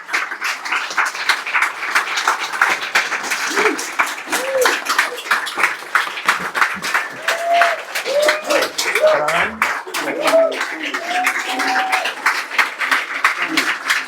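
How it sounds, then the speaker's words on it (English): A crowd claps steadily and warmly, applause filling the room at an even level with some murmuring voices mixed in. "Everyone, give a round of applause for Catherine Connolly"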